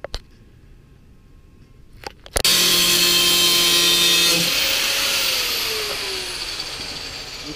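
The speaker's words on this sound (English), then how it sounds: "drill them through, drill them to the right size" A power drill bores holes through a widebody fender on an E46, starting with a few clicks and then a loud, steady whirring whine that slowly winds down.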